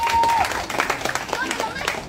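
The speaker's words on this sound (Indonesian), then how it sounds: "Tepuk tangan dong untuk Ayah Bini." A studio audience claps briefly while a voice and a short tone are heard over the scattered, uneven applause.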